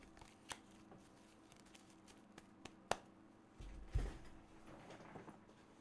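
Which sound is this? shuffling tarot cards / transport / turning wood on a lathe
shuffling tarot cards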